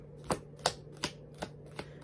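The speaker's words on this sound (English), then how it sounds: "So, I want to get a couple more cards out this deck." Tarot cards are pulled from a deck, giving five sharp, quiet card snaps at a steady, even pace over a low hum.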